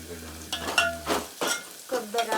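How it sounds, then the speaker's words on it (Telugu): Curry leaves dropped into hot oil for a spicy egg curry crackle and sizzle up close, broken by several short bursts of stirring and pan scraping. "అదే ఇప్పుడైతే నేను కరివేపాకు వేస్తున్నాను"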